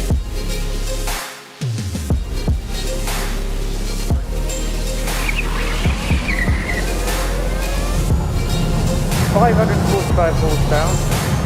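A Charge Cars '67 electric car drives at the Goodwood Festival of Speed with tire squeal and a rising whine as it accelerates, loud and close.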